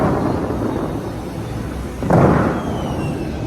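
The Bellagio fountain show in Las Vegas sends out a low, thunder-like boom over a steady outdoor rumble, with one sharp, louder burst partway through.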